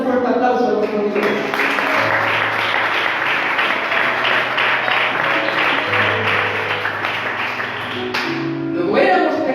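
Church congregation clapping at a sermon, a sustained burst of many hands that starts after a second, holds steady, then fades out, with a voice speaking over and around it.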